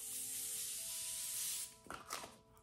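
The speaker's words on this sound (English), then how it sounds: "I always apply this Morphe Continued Setting Spray." A steady, hissing spray of Morphe Continued Setting Spray makeup setting spray runs for about a second and a half, then stops, followed by a couple of soft rustling rubs.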